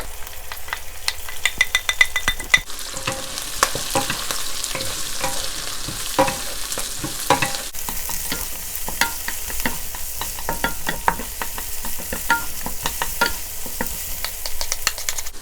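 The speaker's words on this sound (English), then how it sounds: "Ginger, garlic, onion." Ginger, garlic and onion stir-frying in a hot wok for Kung Pao chicken, a steady loud sizzle with frequent scraping and clattering of the spatula, no talking.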